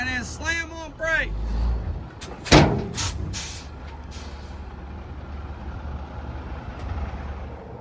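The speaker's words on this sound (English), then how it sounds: "Now go forward and then slam on brakes." A dirt track race truck rolls forward over a loud engine rumble and then brakes hard, with a sharp hiss-like burst at the stop and faint talk in the background.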